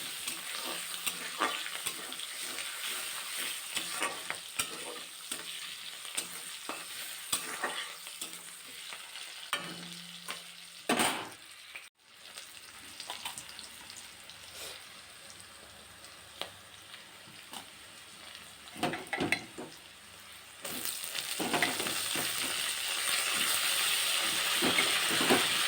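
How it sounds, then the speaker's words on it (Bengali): Chopped onion frying in a little fresh oil after fish has been fried in the same pan, a soft steady sizzle with intermittent stirring scrapes and clatter, briefly dipping near the middle before a fuller hiss returns toward the end. "তারপরে আর একটু তেল দিয়ে ওর মধ্যে দিয়ে দিলাম পেঁয়াজ কুচি"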